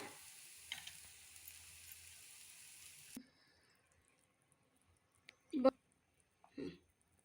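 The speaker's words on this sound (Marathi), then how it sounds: "भाजी आता शिजत आहे मंद गॅसवर ठेवायची" A Bhogi mixed vegetable curry cooking over a low gas flame gives a soft, steady hiss for a few seconds before it cuts off, followed by quiet with a couple of brief knocks.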